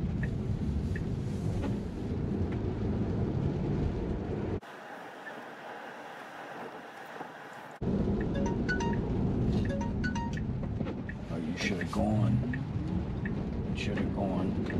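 Rain falls steadily on a Tesla heard from inside the cabin, a dense patter with scattered heavier drops, interrupted once by a brief muffled stretch, while a voice speaks now and then.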